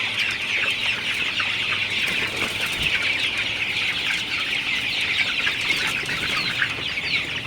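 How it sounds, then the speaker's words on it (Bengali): Sonali super hybrid chickens in a poultry shed keep up a steady, dense chorus of clucking and soft calls, with occasional wing flutters, close and continuous with no voices. "আমার পুরো শেড জুড়ে মুরগিগুলো একদম ছড়াই ছিটাই গেছে"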